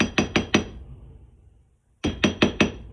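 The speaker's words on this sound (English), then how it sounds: "give it one more hammer while holding those pieces together" Small hammer blows strike jewelry wire to flatten an S-hook clasp, two quick bursts of four sharp metallic taps each separated by a short pause, close and clear with no talking.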